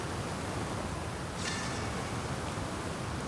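A waterfall roars steadily in Assassin's Creed Crossover Stories, a broad, even rush of falling water that fills the whole clip close by, with no speech.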